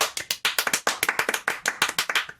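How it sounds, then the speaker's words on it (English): Two people clapping their hands together, a quick run of sharp, uneven claps close by, with no talk over them. "you clap and I'll clap, and that's what it sounds like"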